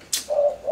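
A tekukur, a spotted dove kept as a caged bird, gives a short sharp note followed by a single sustained coo, close and clear with nothing else around it.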